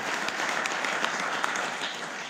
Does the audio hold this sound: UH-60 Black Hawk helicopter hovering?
no